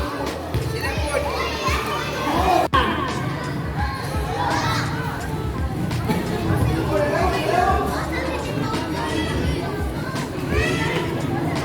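A group of children chatter, call out and play together in a slum neighborhood gathering, a dense, loud, continuous crowd of young voices close by, with one sharp knock partway through.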